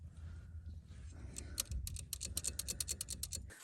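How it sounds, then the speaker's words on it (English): A pressure plate meant to trigger a water supply clicks repeatedly, producing a quick run of sharp, close mechanical clicks in the second half over a low background hum. "So this is a pressure plate. This clicks and it's supposed to turn on the water."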